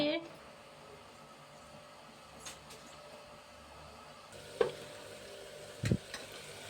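Onions fry in a pan with a faint, steady sizzle running underneath, a few clinks and scrapes of stirring breaking through near the end.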